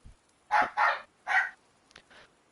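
Three sharp, close dog barks in quick succession, followed by a couple of softer yips.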